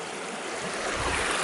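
A gold-hunting creek rushes over rocks where stones divert and narrow the flow, a close continuous broadband gushing and splashing with no talking over it.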